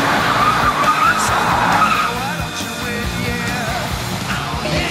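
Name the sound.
old truck doing a burnout spin with skidding tyres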